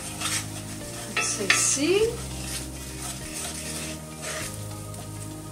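Paprika and dried garlic sizzle in a hot pan with pork, a bright close crackle mixed with metal utensil scrapes and clinks against the pan; a voice briefly speaks over it.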